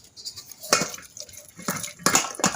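Cooked puran, a sweet lentil filling, is pressed through a sieve into a pot below, making soft scraping and metallic clinking sounds in short bursts, close and fairly quiet.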